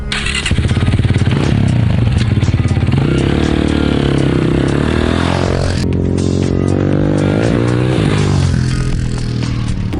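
A 2003 Honda CRF230F dirt bike rides past close and loud, its engine droning steadily with rising revs and shifting pitch over clattering, scraping noise throughout.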